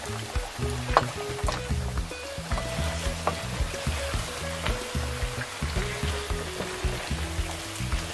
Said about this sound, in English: Keep stir frying it, check your salt to taste how you like it.